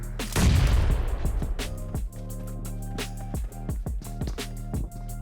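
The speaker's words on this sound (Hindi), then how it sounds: "नीचे से भी फायरिंग आ रहा था" Dense gunfire in a battle royale video game, a roaring burst of shots followed by rapid repeated cracks and booms, loud and close, with no talking.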